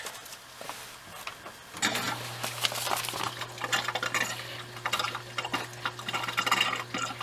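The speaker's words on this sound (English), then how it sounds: "let the machine fill until the drum starts to turn" A washing machine in a Jayco Pinnacle RV begins filling with water after a low steady motor hum, rushing water entering with clattering and splashing over a constant drone, fairly close and moderately loud, with no talk.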